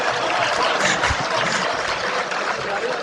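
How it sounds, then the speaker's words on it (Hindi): Dense, steady applause from an audience at a function, loud and continuous throughout with no pauses or voices standing out. "इन तालियों से मुझे इतना डर लगा है"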